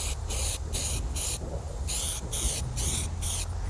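Clear coat paint sprayed onto a car in short repeated hissing bursts, about eight quick passes with brief pauses between, close and fairly loud.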